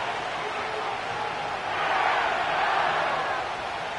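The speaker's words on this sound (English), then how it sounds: "The crowd is definitely ready." Stadium crowd noise from the EA Sports NFL video game at SoFi Stadium in Inglewood, a steady broad roar of many voices that swells slightly midway and holds for about four seconds.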